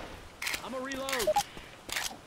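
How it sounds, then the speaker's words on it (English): Left 4 Dead 2 weapon reloading: a few short mechanical clicks and clacks, spread out with gaps between them, come in under a voice and a brief game tone. "Reloading"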